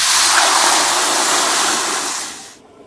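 Water pours into a wok in a loud, steady gushing splash for about two and a half seconds before stopping abruptly, the start of making mango chutney.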